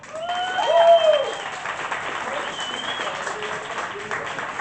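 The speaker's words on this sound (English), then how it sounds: "And keep that applause going." Audience clapping for a poet at a poetry slam, a moderate steady patter of applause under a host's voice speaking over it, fading slightly after the first second.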